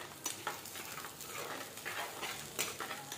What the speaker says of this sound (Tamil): எல்லா வெங்காயத்தையும் போட்டுக்கலாம். நல்லா வதக்கி எடுத்துக்கலாமா?